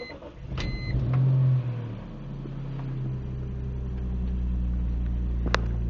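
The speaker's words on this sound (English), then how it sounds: "let's see how it starts." A 2001 BMW M3 with over 200k km cold-starts after a week unused: a brief starter whir, then the engine catches and settles into a loud, steady idle rumble close by.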